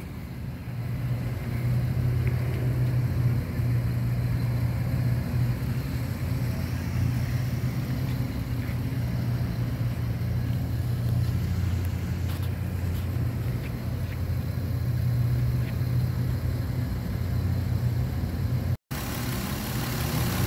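Lexus GS with a 2JZ 3.0-liter inline-six, iron block and aluminum heads, idling steadily with a smooth low hum held close and even for the whole stretch, briefly cut out near the end.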